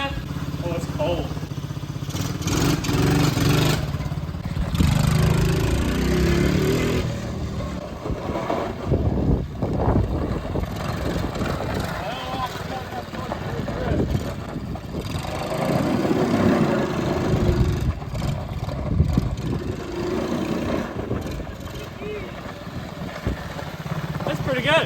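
Engine of a quad ATV idling and revving outdoors in cold weather, a steady low rumble with uneven surges throughout, heard close with people talking over it.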